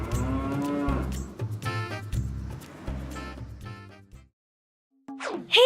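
Cows moo in long, low, drawn-out calls, several overlapping and close by, with a pause near the end before a higher cry.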